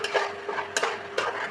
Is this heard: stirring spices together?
yes